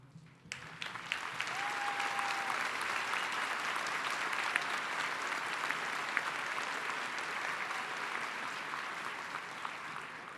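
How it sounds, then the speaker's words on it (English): A graduation ceremony audience for a university's College of Science & Mathematics bursts into applause for standing faculty, starting abruptly and holding as a broad, steady clapping roar with occasional brighter claps. "You deserve a big round of applause for your excellent work."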